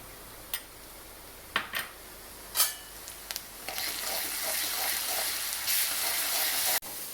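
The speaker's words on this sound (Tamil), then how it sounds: "ஒரு அரை ஸ்பூனு இஞ்சி பூண்டு பேஸ்ட்டை சேர்த்துக்குவோம்" Ginger garlic paste frying in a pan alongside chopped onion and green chilli, a steady sizzle building from about four seconds, with a few earlier clinks and scrapes of a spoon against the pan.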